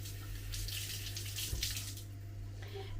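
Water runs steadily from a kitchen or bathroom tap as something is rinsed under it, a close, continuous hiss that swells briefly midway, with no voices.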